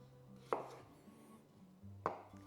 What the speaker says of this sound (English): and just slice it into nice chunks